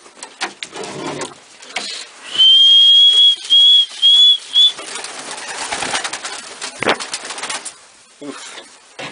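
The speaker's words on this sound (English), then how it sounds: "Hungry pigeons." Hungry racing homer pigeons in a breeding loft being fed, with bright repeated whistling tones and scattered cooing and wing flutters close by, no talk.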